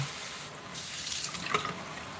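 Warm tap water runs steadily from a faucet while a dog bath is being prepared, a continuous splashing hiss with a small spatter near the end and no talking.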